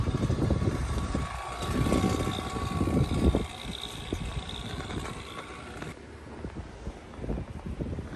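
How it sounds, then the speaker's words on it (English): Wind blows around a rooftop umbrella, a steady rough buffeting rush that swells and eases, loud and close against the microphone. "unless you yank it, wind's not gonna take it"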